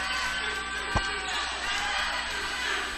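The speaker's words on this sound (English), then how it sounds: "you can hear the crowd yelling for the sophomore" Crowd roars and yells in a gym at a high school varsity boys basketball tournament game, Ellinwood vs Chase, after a sophomore's three-pointer. It makes a steady, dense wash of cheering throughout with one brief louder thump.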